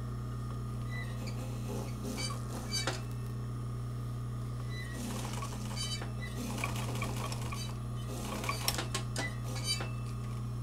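A sewing machine embroiders yarn onto fabric in short, intermittent runs of rapid stitching, with pauses between them, over a steady low electrical hum.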